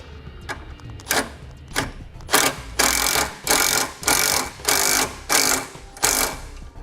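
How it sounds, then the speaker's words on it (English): A socket wrench tightens a nut on a horn relocation bolt during a 2017 Ford Focus base plate install, giving a quick opening click, then about nine loud, evenly spaced ratchet bursts close by, with no talk. "we'll tighten the nut down with a socket"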